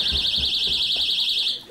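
A loud electronic alarm in a comedy sketch sounds alone as a rapidly warbling, high-pitched tone that pulses steadily for almost two seconds before cutting off.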